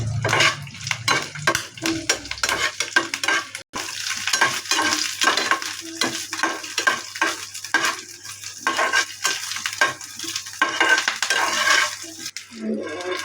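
Oil and masala for Guntur karam fish fry are stirred in a pan, giving a sizzling, scraping sound broken by repeated clinks and scrapes of a utensil against the pan.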